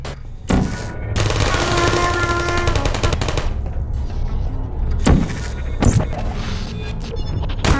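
Sustained rapid automatic gunfire from a live fire course for military androids in the Portal game, loud and continuous for several seconds, then a few sharp single bangs with pauses between them.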